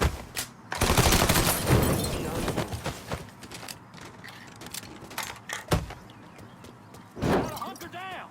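Bursts of gunfire in the video game Mafia III: Definitive Edition crack out in loud clusters, with heavy shots near the start and scattered single reports after, while voices shout over and between them.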